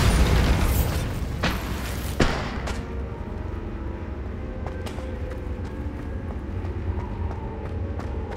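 A Bombarda spell explodes in Hogwarts Legacy gameplay with a loud opening boom and a sharp crack, then the blast rumbles down into a lower, steady decay broken by small scattered pops.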